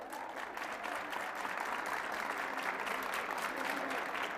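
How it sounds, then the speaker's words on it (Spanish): A live studio audience at the FES university campus applauds a guest interview, the clapping broad and steady for several seconds with no voices on top. "El aplauso."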